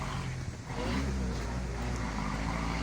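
A car rolls along a badly broken, pothole-filled road between Sarsawa, Kotli and Baloch in Pakistan-administered Kashmir, its engine a steady low drone that swells after a brief dip, with rumbling road noise underneath.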